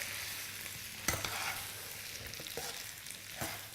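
Chicken and spaghetti with garlic and rosemary tossed together in a pan, giving a low steady sizzle with a few sharp scrapes and stirring clatters at irregular moments, alone with no talking.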